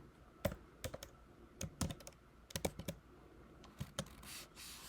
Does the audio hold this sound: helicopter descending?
no